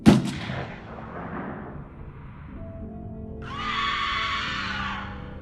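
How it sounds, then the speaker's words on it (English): A rifle fires at night in an Ozarks valley: one sharp, loud crack at the very start, then a long rolling echo that fades off the surrounding slopes, followed by a hissy, rushing noise later on. "the crack of the rifle shot echoed off the valley walls"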